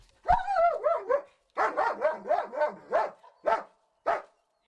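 A search-and-rescue dog barks repeatedly at close range in loud, yappy bursts, clustered in quick runs with short pauses, then two final single barks.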